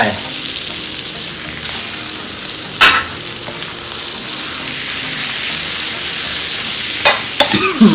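Rat meat stir-fried in a pan with chili, a steady close sizzle and frying hiss running throughout, broken by a few sharp scrapes and clatters of stirring.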